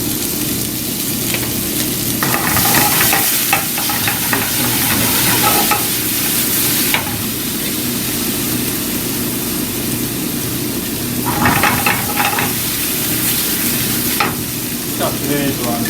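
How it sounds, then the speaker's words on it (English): Sliced lotus root sizzles in a hot pan, a steady broadband frying hiss with occasional sharper bursts as the pieces are stirred and tossed, close and continuous throughout. "pan fry"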